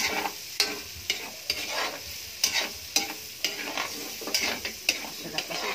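Onion and garlic sautéing in a pan, stirred with a utensil that scrapes and clicks in a steady, uneven rhythm over a continuous close sizzle, with no voices.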